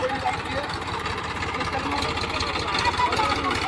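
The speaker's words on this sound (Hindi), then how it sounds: "हमारा ट्रैक्टर आ जाता है यहाँ फाइनली और अब खेत में होगी ट्रैक्टर की एंट्री" A tractor engine idles steadily at a sugarcane field, a close, continuous chugging rumble with a rapid low pulse throughout, no clear talking.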